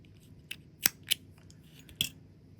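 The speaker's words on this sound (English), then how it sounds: "I'm going to pull the old color tight and then cut." Scissors snip crochet yarn while a granny square keychain is being made, giving four crisp, close cuts: a light one, two quick sharp snips together, then a final clear snip after a pause.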